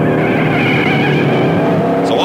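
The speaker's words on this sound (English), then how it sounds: "So off he drives at the wheel of the fancy Bentley" A Bentley pulls away, its engine revving steadily with a smooth rising drone and a brief squeal at the end, loud and close.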